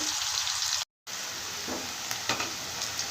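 Eggplant and capsicum masala curry cooking in a pan hisses and sizzles steadily, with a brief dropout near the start and a few faint stirring clicks, and no one speaks.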